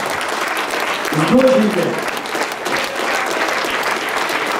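Audience applause rings out at a celebratory event in honour of a Hero of Russia and his newborn daughter, a steady wash of clapping that swells briefly while a voice speaks over it.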